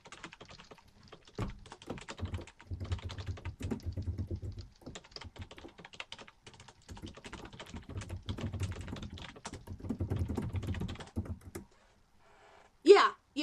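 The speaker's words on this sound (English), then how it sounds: "I used the fact that you typed to cover my typing sound" Rapid typing on a computer keyboard, dense bursts of close key clicks and thunks in two long runs with a brief pause between, followed by a short quiet stretch and a sharp noise at the end.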